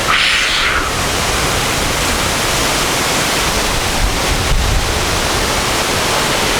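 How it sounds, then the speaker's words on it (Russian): Wind roars through birch trees beside the old Kharitonovskaya narrow-gauge logging railway and its train graveyard: a loud, steady, close rush of broadband noise with no breaks, and no voices. "Ветер шумит"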